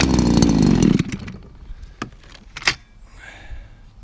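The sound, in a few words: hedge trimmer engine starting and running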